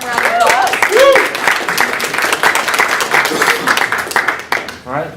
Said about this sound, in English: Please give him a nice warm round of applause.